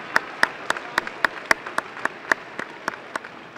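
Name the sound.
audience applause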